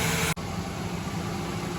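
Ford Ranger pickup engine idling with the AC cranked up, a steady, even hum with a constant broadband hiss, with a brief dropout near the start, then unchanging.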